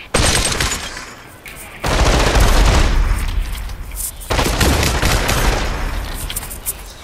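Assault rifle fire in the VR shooter Population One, heard as loud, rapid bursts of automatic shots that stop and restart a few times, with hardly any pause inside each burst.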